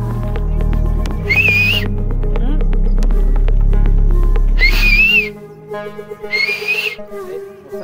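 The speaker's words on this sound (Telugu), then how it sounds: "ఒక్కసారి విజిల్ కొట్టేస్తుంది రండి" Three long warbling whistle blasts from a group outing in the Ananthagiri Hills, each lasting about a second and spaced evenly apart, loud and close over a deep rumbling drone that stops partway through.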